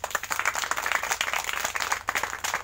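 A group of children in a village gathering in Azamgarh district claps their hands together, a dense, steady patter of many hands that runs throughout without voices.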